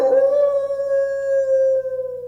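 A single dog's long, sustained howl, close and loud, holding one steady pitch for a couple of seconds with no other voices, relaying the Twilight Bark from Hampstead.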